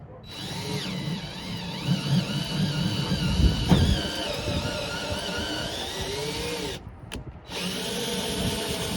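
Harbor Freight drill bit boring holes for a back plate, a steady whining drill motor with grinding bite as the bit cuts, pausing briefly near the end before resuming, close and loud with no talk.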